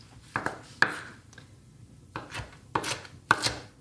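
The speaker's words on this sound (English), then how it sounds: "And just chop it like roughly." A knife chops fresh herbs roughly on a cutting board in a home kitchen, giving sharp, separate knocks in small uneven clusters with quiet gaps between them.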